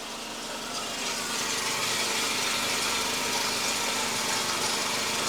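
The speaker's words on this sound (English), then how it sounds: "But the idle is still rough." A Mercedes-Benz S124 with the M102 engine idles roughly, a steady close loud mechanical drone with uneven pulsing throughout, no talking.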